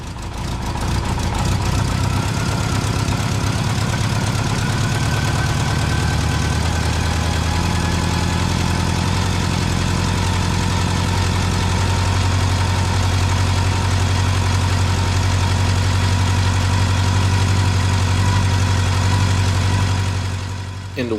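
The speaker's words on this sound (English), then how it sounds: "so I fired her up a bit" A Honda Goldwing GL1200 motorcycle engine, freshly fitted with new timing belts and running without coolant, idles steadily with a loud, continuous low rumble and a faint tapping knock for about twenty seconds before cutting off.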